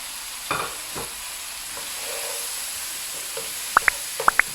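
Mushrooms going into a pan with pork and onion over gentle heat, a soft steady sizzle with a few thumps early on and sharp bright clinks of a utensil near the end.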